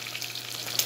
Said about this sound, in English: I already started frying this main ingredient also